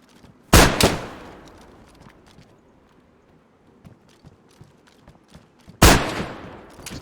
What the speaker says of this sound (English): He killed me! Automatic weapon.